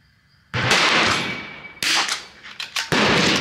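Rifle shots at a target with Eley club ammunition through a Vudoo rifle: a few sharp, loud reports close by, each with a lingering decay, followed by some quicker bangs near the end.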